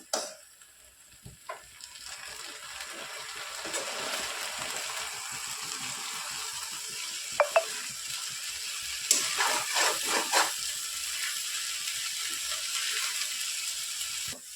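Banana peel thoran, its water cooked off, is stirred in a pan on the stove, giving a continuous soft sizzle with scraping and a few sharper clinks and spatters partway through.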